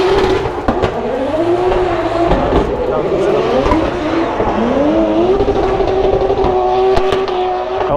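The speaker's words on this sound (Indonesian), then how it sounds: "Oh, ini mobil World House Drift man." Drift car at a Drift Masters Ireland competition, its engine wailing and revving continuously with rising and falling pitch as it slides, loud and close, with tire squeal and a commentator talking over it throughout.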